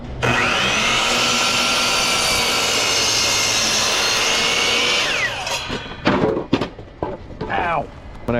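Power saw cutting boards to 48 inches, a loud close whining roar held steady for about five seconds before winding down, followed by knocks and handling noises of the wood.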